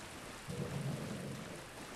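A thunderstorm outside brings a low, rolling rumble of thunder swelling briefly over steady, hissing rain, with no voices.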